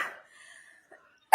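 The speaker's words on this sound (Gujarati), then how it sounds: "જોયું કેટલી ઉધરસ થઈ ગઈ" A person coughs in short, harsh bursts: one at the start trailing off into a faint breathy tone, then a sharp, abrupt cough right at the end, close and otherwise quiet.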